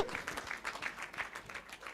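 A breakfast audience at a corporate charity event claps in a quiet, steady patter that sounds somewhat distant and stays even throughout.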